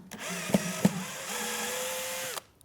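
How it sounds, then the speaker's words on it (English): A power driver whirs steadily, backing out a screw from the headrest of a Contrology Pilates reformer, with two sharp clicks early on and the motor winding down to a stop at the end. "I'm going to back out the headrest bolts. No, these are screws."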